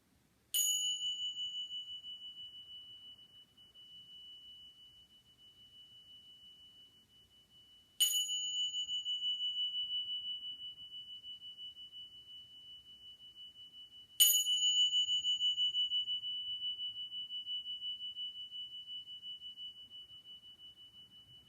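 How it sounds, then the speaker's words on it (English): Three clear bell strikes ring out at the close of a yin yoga class, each a bright sustained ding spaced several seconds apart and slowly decaying into near silence. "I'm just going to end with my bells"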